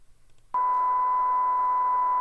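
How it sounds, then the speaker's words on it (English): A DVS timecode record plays through a regular speaker, giving a single steady pure beep tone that switches on abruptly after a short quiet moment and holds unchanged to the end. "You just have that steady tone,"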